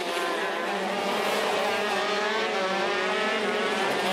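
KZ2 racing karts at a Pro-Kart race in Auckland, engines screaming loud and steady throughout, a dense high-pitched whine from several karts at once with no pause.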